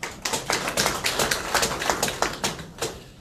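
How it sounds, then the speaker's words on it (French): An audience at a meeting of the prime minister with regional governors and prefects applauds to welcome him, with close, uneven, sharp claps that pulse irregularly for a few seconds. "Et nous accueillons par vos applaudissements."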